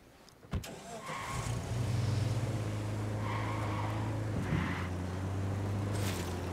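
A car driven in Ghost Recon Wildlands, its engine starting with a sharp jolt, then settling into a steady, close mid-pitched drone that holds with slight shifts until the end.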